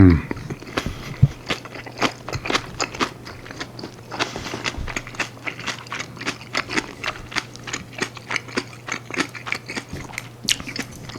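Someone bites and chews spicy kimchi with tofu close to the microphone, a run of sharp, irregular crunches and wet chewing over a faint low hum, with brief talk in places.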